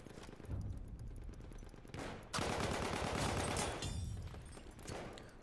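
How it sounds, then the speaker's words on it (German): Rapid bursts of gunfire in the video game Battlefield 1, set in a desert, crackle loudly in a dense, sustained volley for several seconds, tapering off near the end with no talk over it. "Irgendwo wird geschossen."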